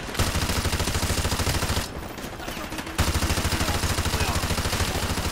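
Machine gun fire in the video game Call of Duty: Modern Warfare 2, loud continuous rapid bursts close up, pausing for about a second midway before the dense fire resumes.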